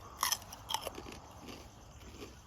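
Crunchy fried pork rind (khaep mu) bitten close up, two sharp crackling crunches followed by softer chewing.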